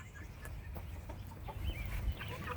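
Hens cluck and chatter close by in a backyard flock kept alongside larger birds, a steady busy murmur of soft calls over a low rumbling background.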